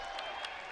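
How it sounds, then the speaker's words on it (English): Arena crowd at a women's college basketball game, Dixie State versus Adams State, applauding a made free throw; a steady, moderate wash of scattered clapping and crowd murmur with no clear breaks. "And that's met with an applause here inside the Burns Arena"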